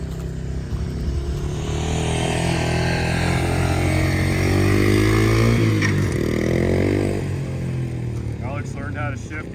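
Loud two-stroke engine of an ATC250R three-wheeler trike fitted with a CR500 engine, droning and rising in pitch as it revs, with people talking over it.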